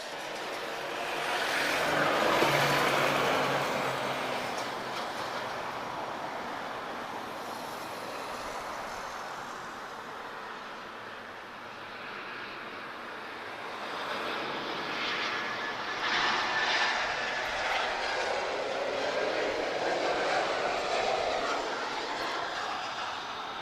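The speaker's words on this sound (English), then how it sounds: "TP563, arriving from Hamburg. This is an Embraer E195 advanced range" An Embraer E195 advanced range jet arriving at Lisbon Airport after a flight from Hamburg, its engine roar swelling and fading in a long, steady, fairly distant rumble with broad hiss throughout.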